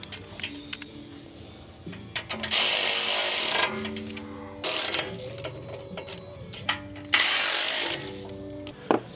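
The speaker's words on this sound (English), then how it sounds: "Now you can use your impact a little bit." Impact wrench driving bolts on a Can-Am rear bumper in short loud bursts, two long rattling runs standing out between lighter ratcheting and clanking from the install work, close up with no talking.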